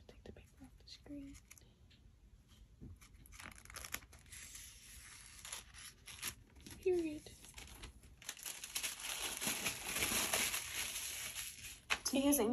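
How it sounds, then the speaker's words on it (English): Protective paper is peeled off a new laptop screen with crinkling and tearing rustles that grow louder and denser toward the end, under quiet whispered talk. "I take the paper off the screen."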